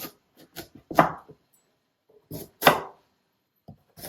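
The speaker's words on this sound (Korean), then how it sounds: "그냥 듬성듬성 썰어서 제가 쪄볼게요" A knife chops through a kabocha squash on a cutting board in a series of distinct, close thumps and cracks, grouped in short bursts with quiet pauses between them.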